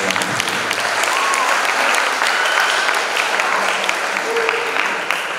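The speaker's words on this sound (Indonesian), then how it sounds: "Berikan aplaus dan tepuk tangan." Audience applause at a school alumni event and business plan competition, steady dense clapping from a crowd sustained throughout with no pause, loud and close.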